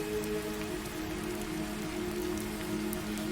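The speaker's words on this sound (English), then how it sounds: "The rain continues, gentle and steady" Gentle, steady rain patters on a surface in an even, continuous hiss, soft and unbroken throughout, with a faint low hum underneath and no voices.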